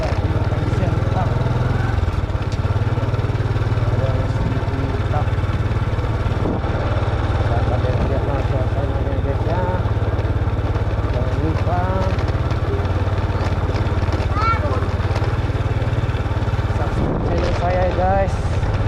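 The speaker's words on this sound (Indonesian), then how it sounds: "naik motor siang hari di Kota Pematang Siantar" A motorcycle rides along Jalan Labu through the city streets of Pematang Siantar by day, its engine a steady close drone with traffic around and a voice talking over it throughout.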